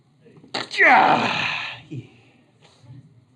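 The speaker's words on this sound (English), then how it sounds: "I'm going to sneeze." A single sharp sneeze bursts out close by, followed by a soft breath or murmur.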